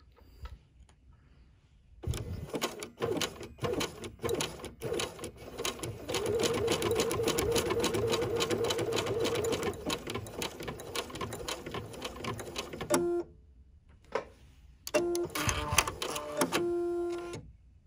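A bernette 79 sewing machine stitches an in-the-hoop project, whirring in a steady mechanical run for about ten seconds before stopping, then giving a few short bursts of stitching. The sound is close and clear, with no talking.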